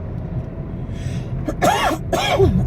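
Two harsh, raspy coughs from a sudden asthma attack, close to the microphone, one after another, over a low background rumble.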